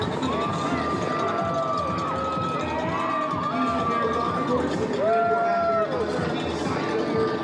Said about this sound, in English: People are cheering